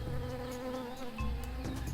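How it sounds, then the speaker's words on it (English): A bee buzzes steadily in the Monkey Island adventure game, a close, continuous droning hum under faint ambient background, with no voices. "If I go back here, do I hear a bee?"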